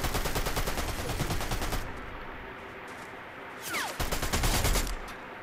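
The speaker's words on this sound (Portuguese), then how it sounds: "Os caras estão atirando." Rapid bursts of Fortnite gunfire rattle in repeated volleys, a sustained automatic stream for almost two seconds, a short lull, then another heavy burst closing out.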